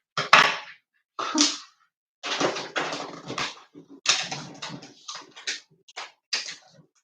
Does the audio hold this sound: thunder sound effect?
no